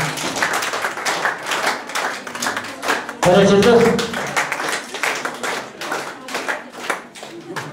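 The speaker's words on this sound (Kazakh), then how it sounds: "бір қаттырақ қаттырақ қошеметтеріңіз ғой" Guests at a Kazakh wedding celebration clap their hands in a steady crowd rhythm, with a brief louder, fuller burst of applause partway through, under an emcee talking over a microphone.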